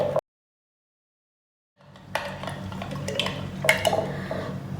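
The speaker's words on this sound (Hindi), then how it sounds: "शक्कर और सत्तू अच्छे तरीके से मिक्स कर लेने हैं" Sugar and sattu being mixed together for a sharbat, a close spoon scraping and clinking against a vessel in steady strokes after a brief silent gap, with no voices.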